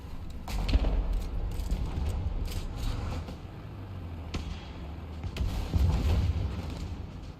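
Tank cannon fire in War Thunder, with a few low booms and thumps against steady engine rumble, heard at moderate loudness.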